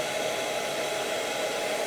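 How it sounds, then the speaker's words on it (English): Hair dryer blowing hot air onto a NECA Godzilla 1954 reissue action figure to soften a vinyl tail, a steady close whooshing hum running alone throughout. "I think I need the air dryer. Let's dry some air."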